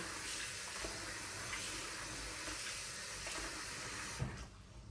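Millet grains being rinsed in water to wash off dust, a steady close wash of sloshing water and hiss running throughout, with a brief splash near the end.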